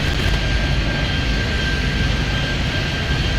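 A jet airliner roars steadily down the runway in the Airport Madness air traffic game, a loud, sustained engine rumble with a high whine running through it, with no voices over it.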